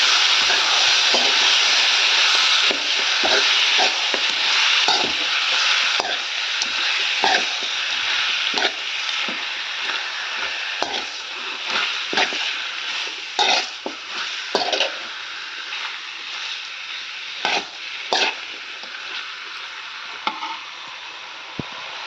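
Chicken curry mixture stirred in a frying pan under a steady loud sizzle, with repeated scraping strokes of the spoon throughout and no talking.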